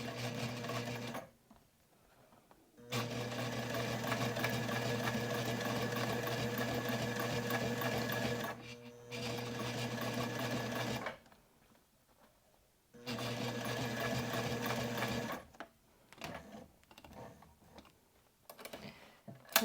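A sewing machine stitches a wallet lining, running in fast even bursts of needle clatter separated by short silent pauses, close and clear.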